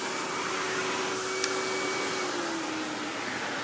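A Royal Classic Power Team 4650 canister vacuum runs at full power, a steady, close, even whooshing roar that holds for the whole stretch with a faint tonal whine and no voices.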